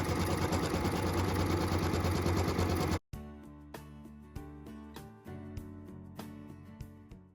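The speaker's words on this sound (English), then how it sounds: "let my machine stitch that directly on my stabilizer and on my project batting" An embroidery sewing machine stitches a piecing template onto stabilizer and batting, running with a steady loud mechanical whir for three seconds, then stopping; quieter ticks and clicks follow.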